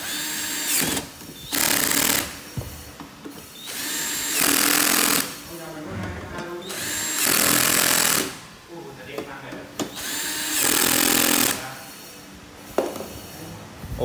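Loud bursts of a power drill whirring into a wall to mount a Samsung TV, each lasting a second or two, separated by short pauses with quieter talk and clatter between them.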